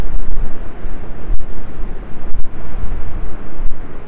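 Ocean waves wash in a loud, steady roar close to the microphone. The surge stays constant, with a few short dropouts.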